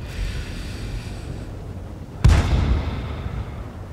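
In World of Tanks on the Lakeville map, a single loud tank cannon blast booms sharply about halfway through and decays into a rumbling tail, with steady engine and wind-like noise underneath.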